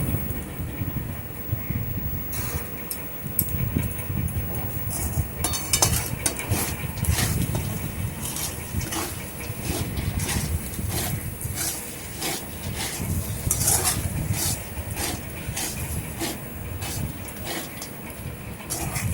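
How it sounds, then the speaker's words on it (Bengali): Sago pulao, finished with a little ghee, is scooped from the cooking pot into another vessel. Repeated metal scrapes and clinks of a spoon against the pans sound up close, irregular and steady, with no talking. "সাবুর পোলাওটা একটা অন্য পাত্রের মধ্যে দিয়ে তুলে নেব"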